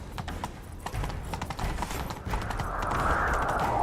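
Horse hooves clip-clop in a video game chase, a quick rhythmic patter of hoofbeats over a low rumble, with a faint whinny and a rising whoosh toward the end.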